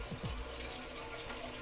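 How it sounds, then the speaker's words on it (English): Water trickles down through a hydroponic tower garden into the reservoir at its base, a soft, continuous splashing and dribbling heard close and fairly quiet. "the water will just continue all the way down back into the reservoir at the bottom"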